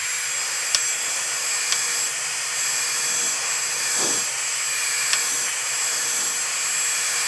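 An Irresistible Me Onyx Professional hair dryer blows continuously close by, a steady airy roar with a few faint clicks and no speech.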